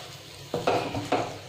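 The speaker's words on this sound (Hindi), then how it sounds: "कंटिन्यू चलाते रहेंगे और ये अच्छे से घी छोड़ने लग गया है" Chocolate barfi mixture cooking in ghee being stirred, two or three soft scraping strokes of a spoon against the pan over a faint sizzle, close by and quiet.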